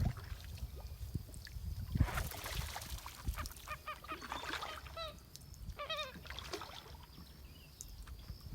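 Honking duck or goose calls from waterfowl near a kayak campsite in Florida, a few nasal bursts in the middle and latter part over steady outdoor background noise with occasional knocks.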